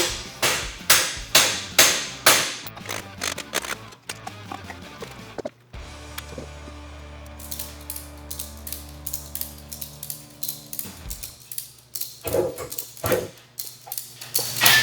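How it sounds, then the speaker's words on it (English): Hammer smashing bolts out of an abandoned Toyota Tacoma being built into a rock crawler: loud, rhythmic metal blows ring out in fast series, with a sustained ringing drone partway through. "Smash these bolts out."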